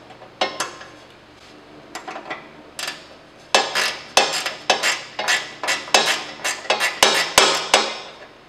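Metal tapping and hammering rings out while a shear pin is worked loose from an Ariens snow blower, heard as irregular sharp clinks that build into a fast, steady series of close strikes.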